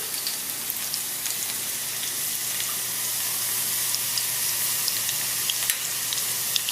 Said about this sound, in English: to the oil I'm going to put 3 crushed garlics until it's brown